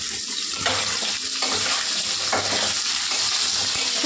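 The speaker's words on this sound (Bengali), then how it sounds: "আলুগুলো এবার লাল লাল করে ভেজে নেব।" Potatoes frying in a pan of oil with dried red chilli and kalonji seeds, a continuous close sizzle broken by a few stirring scrapes, with no talking.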